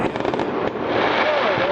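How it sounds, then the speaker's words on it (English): Homemade backyard fireworks set off by homeowners pop and crackle in a quick scattered run of sharp bursts, then give way to a steadier rushing wash with a faint whistle near the end. "And these are individual fireworks. Homeowners are setting these up."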